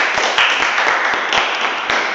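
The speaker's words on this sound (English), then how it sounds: "Give yourself a big round of applause first." An audience at a school English debate applauds, producing a dense, continuous wash of clapping with a few sharper individual claps standing out over a short stretch.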